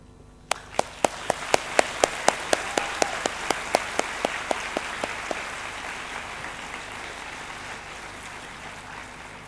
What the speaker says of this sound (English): A round of applause to show our gratitude for these groups of people.